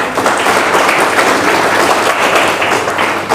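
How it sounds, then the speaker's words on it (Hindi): A seated audience at a direct selling training session breaks into loud, dense clapping that holds steady for a few seconds. "एक बार अपने लिए जोरदार ताली बजा दीजिए"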